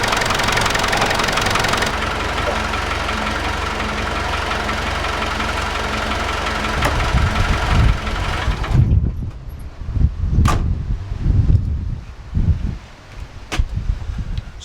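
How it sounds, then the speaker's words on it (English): Car alternator noise from an engine bay, a steady loud mechanical whine and hum at first, then the engine runs with uneven knocking thumps and sharp clicks toward the end. "it looks like the noise is coming from the alternator"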